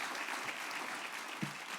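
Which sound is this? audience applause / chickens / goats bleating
audience applause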